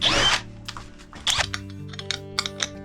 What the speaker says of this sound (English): get another brass plate and drill the hole out